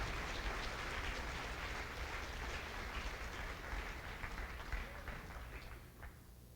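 Faint, distant clapping from a seated church congregation, a soft continuous patter that thins slightly toward the end.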